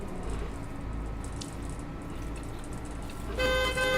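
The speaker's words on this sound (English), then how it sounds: "Oh my, that horn is very loud." A Volvo B10BLE bus horn in the OMSI 2 driving simulator sounds as a loud, steady tonal blast in the final half-second, cutting in abruptly over a continuous low engine rumble.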